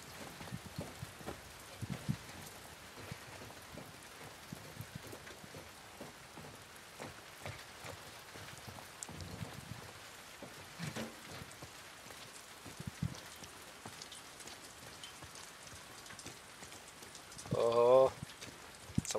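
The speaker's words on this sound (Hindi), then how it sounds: "ये तो मौसम की बारिश है।" Steady rain falling in The Last of Us Part II, a soft continuous patter running through the whole stretch, with scattered louder drops and a brief louder burst near the end.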